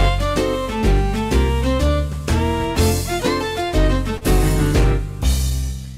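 On a Lowrey Virtual Spectacular organ, an introduction in a major key plays loud and full, with rich sustained chords and moving melody notes in a steady flowing rhythm, unaccompanied by speech.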